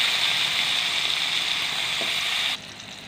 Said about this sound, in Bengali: এটাকে আমি হালকা ফ্রাই করে নিচ্ছি।